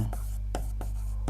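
Chalk or marker on a board as a teacher writes sentences in a classroom, a few sharp scratchy strokes spaced apart over a loud steady low hum.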